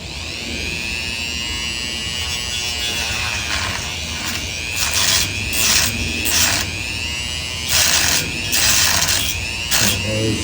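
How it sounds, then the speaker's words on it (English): Dremel rotary tool cutting a slot into a stripped screw head to turn it into a flathead, a loud continuous high-pitched whine with rising bursts of grinding as the bit bites, alone. "Just a little more dremeling. Turn it into a flathead."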